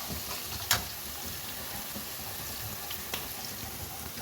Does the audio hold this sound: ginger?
yes